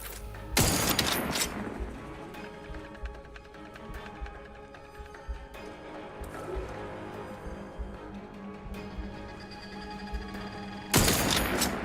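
Rifle fire in a video game: a loud burst of shots at the start, then ongoing scattered combat noise and rumble, and another loud crack of gunfire near the end.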